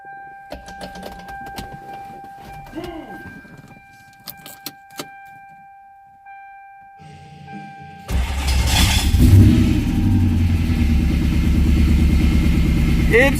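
Scattered clicks and key jingles lead into a car engine starting for the first time during a build, catching and running loud and close with a rough, steady roar.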